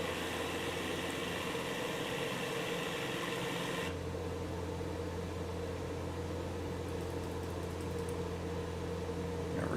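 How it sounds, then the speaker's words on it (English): An aircraft engine in Microsoft Flight Simulator, heard from the exterior view, drones at a steady hum with a constant low tone, shifting a little partway through, with no talking. "you hear the engine a little more."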